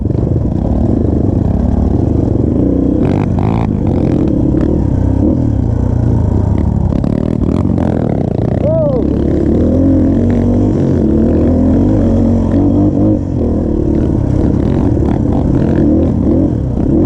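A Yamaha Scorpio motorcycle engine laboring up a steep climb, a loud, continuous low drone close to the microphone with rising and falling revs and wind buffeting throughout.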